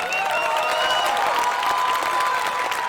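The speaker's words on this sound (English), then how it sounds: "Once again, a huge round of applause." A large school audience at the close of a senior school Indus Day applauds and cheers, a loud continuous roar of clapping with whistles and shouts mixed in.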